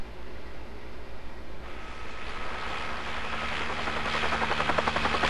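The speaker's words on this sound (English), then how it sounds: "Oh my god, a helicopter. Where'd that come from?" In the Resident Evil video game, a helicopter drones with a steady low rotor thump and growing whooshing wash, loud and continuous as it draws nearer.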